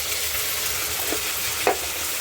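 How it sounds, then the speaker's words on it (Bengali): Vegetables and green peas fry in a wok for fried rice, giving a steady close sizzle and hiss, with one brief clink of a utensil against the pan near the end. "তারপরে আমি ভেজে নেব এগুলো সমস্ত ওই সবজিগুলো।"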